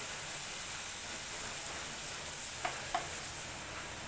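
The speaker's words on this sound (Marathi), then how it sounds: "आता इथे मी टोमॅटो आणि कोथंबीर त्याची पेटी टाकून घेतली चांगला आता फ्राय करून घेते भाजते" Tomatoes and coriander frying in spice paste in a pan over low heat, a steady soft sizzle throughout with two brief stirring scrapes near the end.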